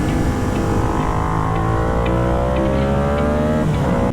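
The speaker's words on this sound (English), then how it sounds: "one of the best beginner bikes, Yamaha R7. Taking this out today, thanks to a good friend Drusif for lending" A Yamaha R7 motorcycle engine revs loud and close, holding a steady roar with pitch rising and falling through the revs, continuous and alone without talk.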